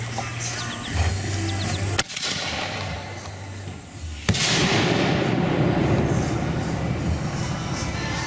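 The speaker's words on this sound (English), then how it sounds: "If that doesn't sound like a 3-inch salute, I don't know what does." A 3-inch salute firework goes off at a sportsman club fireworks show, one loud sharp bang followed by a long rumbling echo. An earlier crack comes before it and people talk faintly beforehand.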